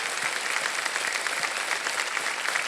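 Audience applause in the studio of the quiz show Kaun Banega Crorepati: dense, steady clapping from a large crowd that carries on evenly throughout with no voices over it.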